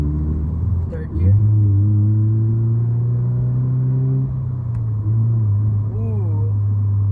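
A Subaru BRZ fitted with a Pedal Commander throttle controller in Sport Plus mode, its engine droning steadily and rising in pitch under acceleration in third gear, loud and continuous inside the cabin with brief shifts in tone.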